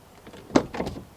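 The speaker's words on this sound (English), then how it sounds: "you can do one quite important check to see if the windows drop when the door is open" The pillarless door of a Mk1 Audi TT is opened, with a quick latch click followed by the short whir of the frameless window dropping slightly. Both sounds are brief and fairly close.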